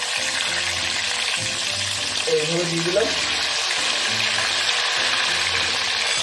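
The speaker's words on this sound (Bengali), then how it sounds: "সেই আলুটা কিন্তু এই তেলেই ভাজা করে নেব।" Cut potatoes frying in hot oil in a village kitchen, a loud continuous sizzle heard close, with someone speaking briefly over it.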